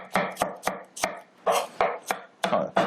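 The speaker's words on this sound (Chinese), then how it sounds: "在这边直接切对半。 切对半之后，再切片" A kitchen knife halves a vegetable and then slices it on a cutting board for stir-fried udon. About ten quick, close, rhythmic chops ring out on their own with no talking.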